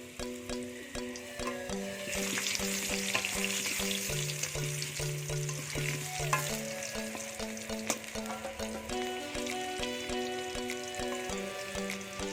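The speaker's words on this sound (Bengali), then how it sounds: "আলুগুলো প্রথমে ভেজে নিচ্ছি।" Potatoes fry in a pan over a wood fire, a steady sizzle with occasional stirring clatter and a faint tonal hum running underneath throughout.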